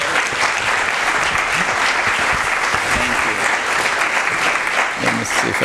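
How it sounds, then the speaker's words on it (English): A forum audience gives loud, dense applause to welcome a speaker to the podium, a continuous, even wash of clapping with some crowd murmur that lasts several seconds. "Please, everyone, with a great round of applause, welcome Dr. Yunus to the podium."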